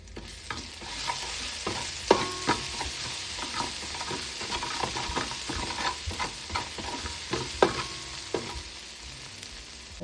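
Garlic and pimento seeds fry in a pot for a one-pot chicken and rice dish, giving a steady close sizzle with repeated sharp clinks and scrapes of a spoon stirring throughout, no voices.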